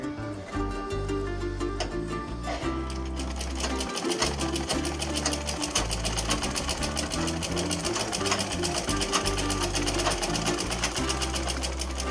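A sewing machine stitches a coat suit in a fast, continuous mechanical chatter, loud and close, with a short break before it runs steadily again.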